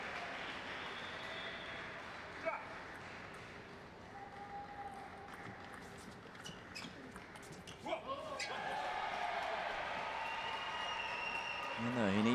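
Arena crowd at a Paralympic table tennis match makes a continuous murmur with ball taps and shoe squeaks, growing louder toward the end, while a commentator talks over it.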